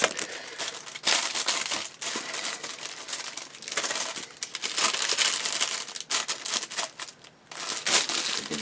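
A plastic bag from a Ryefield 1/35 M4A3 76W HVSS Sherman tank model kit crinkles and rustles close up in irregular bursts with brief pauses, no voices heard.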